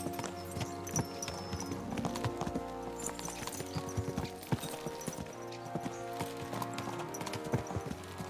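Horses ridden hard in the video game Kingdom Come: Deliverance II, their hooves clip-clopping in a steady, quick rhythm, fairly close, with a brief whinny over faint game ambience.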